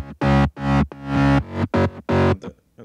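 A progressive house bass line tracing the root notes of a chopped piano chord pattern, heard alone as several short, punchy distorted notes in a stop-start rhythm.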